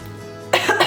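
One sharp cough or throat-clear bursts out after a quiet half-second, set off by the spirit-like fragrance of an aloe vera gel. It is close and short, with a second smaller burst right after.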